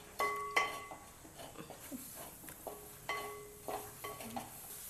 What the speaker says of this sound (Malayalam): ഇനി ഇതിലോട്ട് ചിക്കൻ ഇട്ട് കൊടുക്കാം.